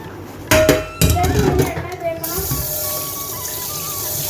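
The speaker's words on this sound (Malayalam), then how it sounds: "നമ്മൾ എന്തെങ്കിലും ഫുഡ് റെഡിയാക്കുന്നതിന് മുന്നേ ജസ്റ്റ് ഒന്ന് കഴുകണം" Tap water runs into a kitchen sink while something is rinsed before cooking, with sharp clatters and knocks of items against the basin early on, then a steady hiss of flowing water and faint tonal squeaks.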